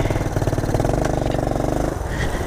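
A 1967 Honda CT-90 motorcycle engine pulling in first gear off-road near a creek: a close, loud, rapidly pulsing small-engine drone that holds steady, then drops off near the end.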